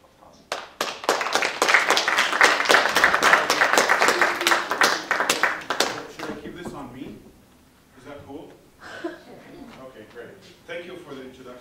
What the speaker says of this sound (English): I would now ask you all to give him a warm round of applause.